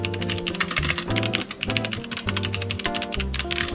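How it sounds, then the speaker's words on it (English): Keys clack under two-finger typing on an Aula F2088 Mac Edition mechanical keyboard, a brisk irregular run of close, crisp taps over faint background music. "he's going to be two-finger typing"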